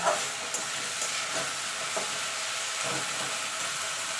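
Drumstick (moringa) flowers stir-fried in a pan, giving a steady close sizzle with soft scraping stirs and a few faint clinks, no voices over it.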